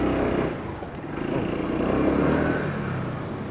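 A Scomadi scooter pulls away hard on a test ride, its engine droning loud and steady close by for a few seconds with no talking.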